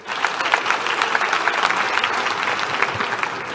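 A church congregation at a Telugu Sunday service claps in unison, a sustained, fairly loud burst of applause with a few voices faintly underneath.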